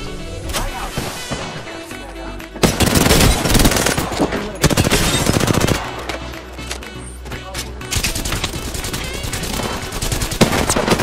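Rapid bursts of automatic gunfire in the Apex Legends battle royale game strike the player in dense, loud volleys, with short pauses between them and a voice talking faintly underneath.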